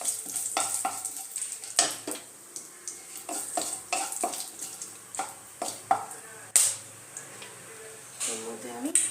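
Whole garam masala, cumin seeds and two dried red chillies sizzle and crackle in hot oil in a kadai, with stirring scrapes and spoon taps over a steady frying hiss, close by and moderately loud.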